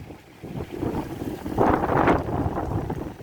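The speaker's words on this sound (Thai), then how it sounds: "โอ้ ลมแรงมากเลย" Strong gusts buffet the microphone outdoors at a sugarcane loading yard, a rough, rumbling roar that swells and peaks midway and keeps blowing without any speech.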